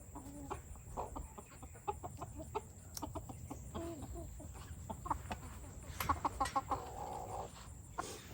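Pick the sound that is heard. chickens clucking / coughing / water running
chickens clucking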